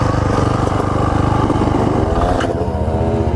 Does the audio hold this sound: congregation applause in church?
no